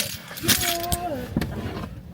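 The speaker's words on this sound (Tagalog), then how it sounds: "Susi natin." A bunch of keys jangles up close in a few quick metallic shakes, partly overlapped by a voice speaking briefly.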